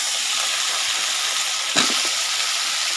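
Fresh bottle gourd tossed into a hot frying pan, a loud steady sizzle and hiss that continues throughout, with one brief clatter of stirring partway through.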